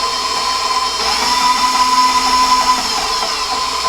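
Stand mixer paddle caked with peanut butter, spun briefly with the bowl lowered to fling the dough off; a steady, close motor whine runs throughout with no talking.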